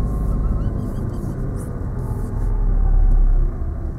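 A car moving off slowly from a stop during a driving lesson, a close, steady engine rumble inside the cabin that swells slightly near the end as it pulls away.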